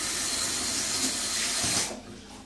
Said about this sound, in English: So we're going to use some water. We're going to run the tap. Make sure it's chilled.